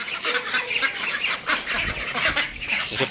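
A flock of ducks quacking and honking noisily at close range, overlapping calls in a busy, continuous clamor.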